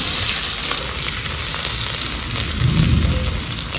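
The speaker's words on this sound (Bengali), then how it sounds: "তেল গরম হয়ে গেছে এবার দু তেজপাতা জিরে শুকনো লঙ্কা তেলে দিয়ে দেবো কুচনো পেঁয়াজ" Bay leaves, cumin, dried chili and chopped onion frying in hot oil, giving a steady close sizzle with a brief louder burst near the end and no voices.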